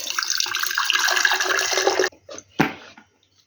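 Brine poured out of a glass jar of marinated tomato pieces with onion and oil, a steady splashing stream lasting about two seconds that stops abruptly, followed by a few small trickles and drips.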